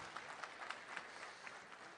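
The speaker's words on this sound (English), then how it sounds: "I think he deserves a big round of applause" Faint applause from the audience at an Indian American diaspora meet and greet in San Jose, a short patch of distant, even clapping.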